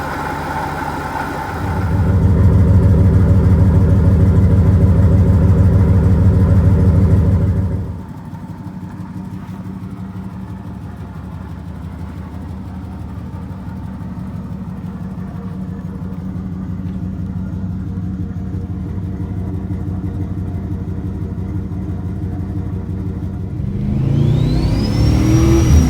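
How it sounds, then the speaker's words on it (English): A turbocharged Dodge Diplomat engine revs hard for several seconds, then settles into a steady, lower hum before rising again near the end; no talking. "The turbo noises are glorious in this car"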